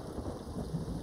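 A storm in the pirate game Sea of Thieves, with steady rain hissing on surfaces and a low rumble of thunder rolling underneath, fairly quiet and continuous throughout.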